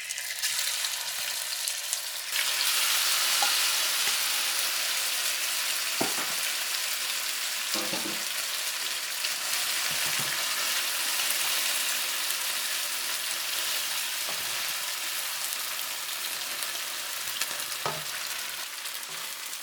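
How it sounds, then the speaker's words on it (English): Tofu frying in oil in a pan, a loud, steady sizzle with occasional scraping stirs and soft knocks over roughly twenty seconds, close to the pan. "now we're gonna cook the tofu first"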